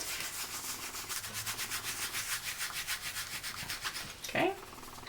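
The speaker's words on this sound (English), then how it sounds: "I'm going to rub that in as well" Glitter being rubbed into a handmade card, a steady, close scratchy rubbing in quick repeated strokes that runs continuously, ending with a brief louder scrape.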